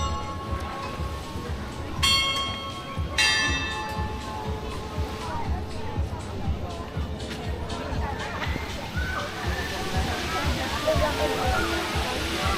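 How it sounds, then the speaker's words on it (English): Bells ring out in a park in Kosice beside a fountain, a few bright metallic strikes early on, heard over the constant rush and splash of running water and nearby voices. "the sound is not from the church tower, but from these bells here"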